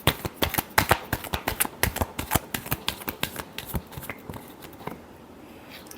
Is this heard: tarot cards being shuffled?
yes